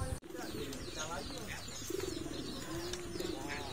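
Racing pigeons cooing close by, repeated soft throaty coos over a busy backdrop with other chirps, while voices talk underneath.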